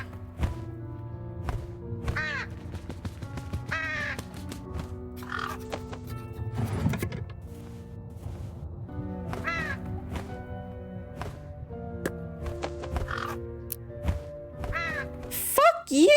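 Repeated harsh crow caws sound in the horror video game True Fear: Forsaken Souls, several separate calls spread out over a low ambient music bed, with a person talking in between.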